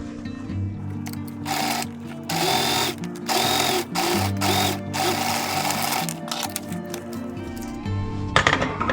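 A sewing machine stitches a seam on a DIY thrift-flip craft project, its needle chattering in loud, steady runs broken by brief pauses as the fabric is repositioned, close and alone without speech.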